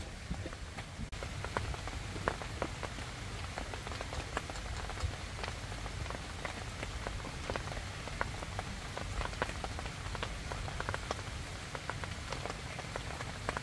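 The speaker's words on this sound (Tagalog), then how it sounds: "umuulan na" Steady rain falls on a campsite, a dense continuous patter of drops striking surfaces close by, with scattered louder individual hits throughout and no talking.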